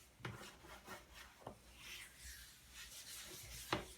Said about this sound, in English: I'm just going to rub it in with the grain